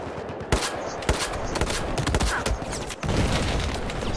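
Heavy gunfire and cannon blasts from a tank battle in the video game Battlefield 4, sharp loud bursts recurring through a dense, continuous wall of combat noise.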